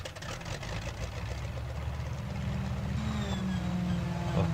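Grumman Mallard amphibian's twin piston engines running at idle in Flight Simulator X, a steady low droning rumble with a faint higher whine, continuous and fairly loud throughout with no talking.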